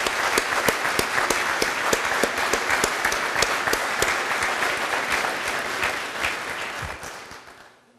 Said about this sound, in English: if we could all applaud them now